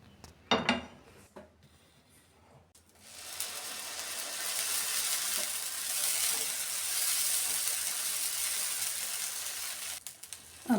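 Dosa batter spread onto a hot pan sizzles in a steady, broad hiss that rises after a few clanks of utensils and holds evenly for several seconds before fading with a final clink.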